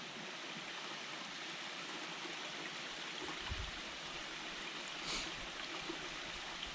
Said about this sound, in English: It's not a great big waterfall